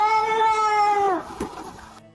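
A cat gives one long, drawn-out meow with a rising and falling, almost speech-like tone, loud and close, trailing off into soft rustling.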